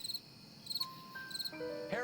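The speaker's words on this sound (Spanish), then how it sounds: "nada más se escuchan grillos" Crickets chirp in short repeated bursts, faint and steady, with electronic tones sounding over them.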